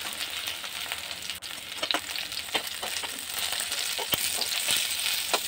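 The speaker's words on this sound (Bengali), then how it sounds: "এবার এই তেলের মধ্যে আর একটু তেল মিশিয়ে আলুটা আর পটলটা ভেজে নেব" Potato and pointed gourd pieces frying in oil in a pan, a continuous crackling sizzle with occasional stirring scrapes and pops, close and fairly even.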